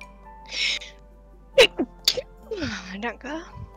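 A Sims 4 character sneezes in short, breathy bursts. The sneezes are mixed with brief chirpy vocal sounds and game effects, close and clear against a quiet background.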